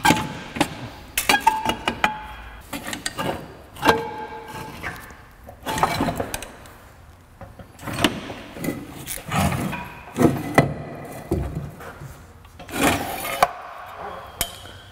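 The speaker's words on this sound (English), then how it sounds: "Gonna do a little strategic prying to get control arms and such" Metal pry bar work on the control arms of an old Ford Fairmont rear axle: irregular bursts of scraping, grinding and clanking metal, close and fairly loud, with short pauses between efforts.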